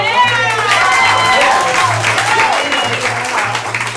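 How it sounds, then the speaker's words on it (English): A theater audience at an improv comedy show breaks into loud, sustained applause with cheering voices for the top three performers, and someone talks over the clapping. "Give it up for them."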